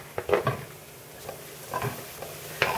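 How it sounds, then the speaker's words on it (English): Cubed eggplant, about one and a half eggplants cut into half-inch pieces, is stirred in a pan with a soft sizzle, broken by a few close scraping stirs and light clinks of a utensil. "And then I'm going to saute."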